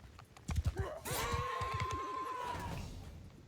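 In the video game Mount & Blade II: Bannerlord, a horse's hooves clip-clop in a few quick steps, then a long, clear whinny rings out, close and fairly quiet.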